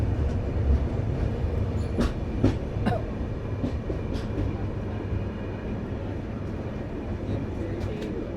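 A passenger train leaving Sealdah in Kolkata rumbles continuously at close range, with rhythmic wheel clacks and rattling carriages throughout.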